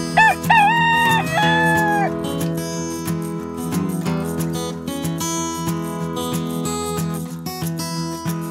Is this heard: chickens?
yes